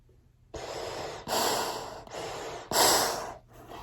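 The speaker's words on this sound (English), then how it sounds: "when I breathe in, you'll see these things suck in because the air is actually going through the filters" Heavy breathing through a respirator mask with filters and an exhale valve, close and muffled. Four hissing breaths alternate between inhales and louder exhales, with no speech.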